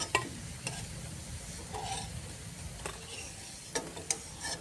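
Pointed gourd fritters sizzle quietly in hot oil in a kadai, a soft continuous frying hiss broken by a few sharp clicks and scrapes of a utensil.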